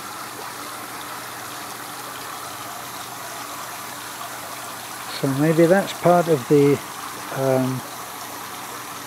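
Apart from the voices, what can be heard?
swimming pool water overflowing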